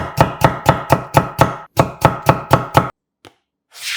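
Peeled potatoes sliced thin with a knife on a board, a brisk run of about a dozen evenly spaced crisp chops, then a pause and one faint tap before a soft rustle.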